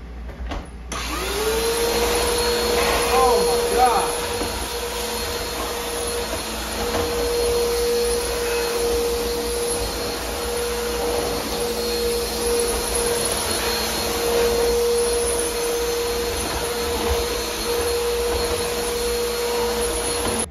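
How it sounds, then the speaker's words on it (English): A Bissell vacuum cleaner runs steadily with a constant motor whine and airy roar, close by, while a voice briefly exclaims over it. "Let's go ahead and vacuum up this freaking dust."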